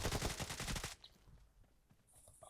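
Gunfire in the battle game PUBG crackles in a fast automatic burst that lasts about a second, then gives way to quieter scattered game noise, with no one talking over it.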